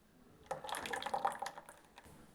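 Thick moong dal batter pours from a blender jar into a vessel, a soft, wet glugging and dripping pour lasting about a second and a half, close and alone without talk.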